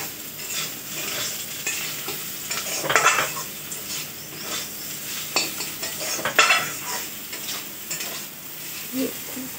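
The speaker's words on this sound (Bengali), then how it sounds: "মা এখন আলু ভাজা করছে।" Potatoes sizzle in a pan at home while a utensil stirs them, with steady frying hiss punctuated by sharp metallic scrapes and clinks against the pan, close and clear with no talking.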